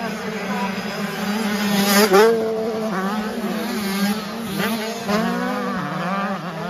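Motocross bikes race on a sandy track at a round of the French Elite Motocross Championship in Bitche, engines whining and revving loudly and continuously as several machines accelerate and shift close by.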